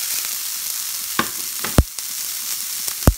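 Sliced onions fry in butter in a pan with a steady sizzle. A few sharp clinks and knocks of stirring cut through close by, and no one speaks.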